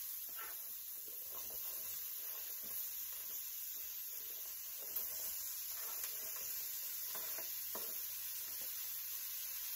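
Onions dropping into a hot pan of browning pork for a stew give a steady close sizzle and hiss, with light stirring and scraping clicks throughout.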